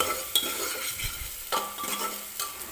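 Red chili powder and turmeric roasting in oil, stirred: soft sizzling hiss with a few scraping strokes of a spoon and a light clink, near and moderate in level, no speech.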